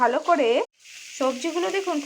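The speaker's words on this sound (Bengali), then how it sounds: "মিডিয়াম টু হাই ফ্লেমের মধ্যেই যতক্ষণে ভাজাটা তৈরি হচ্ছে" Mixed vegetables for spinach fry sizzle in a pan over a medium-high flame, a steady hiss heard beneath a person talking, with a brief quiet pause midway.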